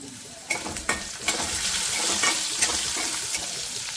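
Green chillies, garlic and curry leaves go into hot tempering oil, setting off a loud close burst of sizzling with a few sharp crackles at the start, then an even spitting hiss.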